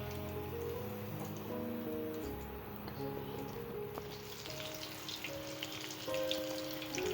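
Cut mirchi bajji fries lightly in oil, giving a quiet, even, rain-like sizzle that holds steady throughout, with faint tonal hum in the background and no talking.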